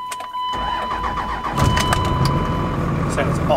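A truck engine cranks and turns over after a brief pause, settling into a steady, low rumbling idle close by, with some voices in the background.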